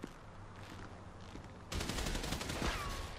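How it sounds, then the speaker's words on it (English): Gunfire in Grand Theft Auto V, a sudden dense fusillade of rapid shots kicking in partway through and continuing loudly over quieter game ambience. "They're shooting up there."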